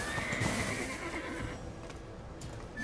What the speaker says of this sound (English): This fucking horse does not jump.